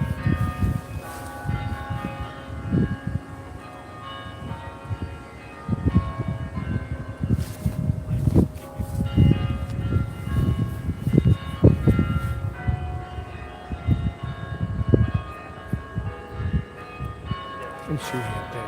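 Church bells chime in a repeating pattern of strikes outdoors on a city street, with people chatting nearby and background traffic noise.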